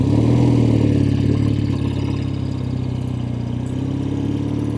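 Vintage 1970 Triumph TR6R motorcycle engine running steadily on a test ride, a loud, close, continuous low throb with a slight dip in revs partway through and no talking.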